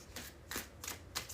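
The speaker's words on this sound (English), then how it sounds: "3 more shuffles" A deck of tarot cards is shuffled in four quick, papery riffles spaced evenly apart, close and fairly soft, with no talking.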